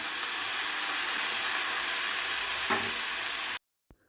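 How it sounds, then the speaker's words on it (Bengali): Chickpeas frying in oil with salt and turmeric for a banana flower curry, a close, steady sizzle with one brief scrape, then an abrupt cut to near silence and a single soft tap. "এবারে দেখো এই ছোলাগুলো এর সঙ্গে দিয়ে ভেজে নেব"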